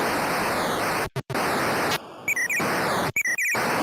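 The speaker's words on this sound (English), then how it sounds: "It's got a little kind of whistly sound effects." Sound effects from the arcade game Defender: continuous hissing noise broken by short gaps, then bright warbling whistle-like chirps in quick bursts, loud and close, no speech.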